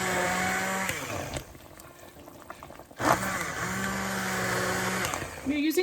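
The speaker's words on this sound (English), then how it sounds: "I'm going to use my immersion blender to" An immersion blender whirs through chicken tortilla soup in two bursts, a steady motorized drone that stops, pauses about a second and a half, then starts again, with a brief clatter at the end.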